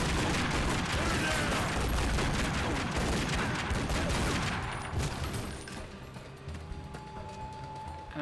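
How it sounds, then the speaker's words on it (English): Sustained, loud automatic assault rifle fire in the video game Tomb Raider: Legend, dense rapid bursts that thin out into scattered shots and echoing aftermath. "I think it might be time to use that assault rifle."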